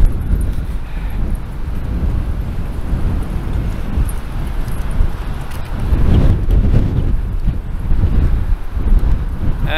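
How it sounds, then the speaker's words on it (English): Strong wind gusting at 50-70 km/h in cold, -20°C weather near the CN Tower in Toronto, a loud continuous rumbling roar buffeting the microphone with surges throughout. "The wind is really strong right now."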